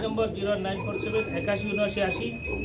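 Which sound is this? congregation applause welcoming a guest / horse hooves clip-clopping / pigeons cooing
pigeons cooing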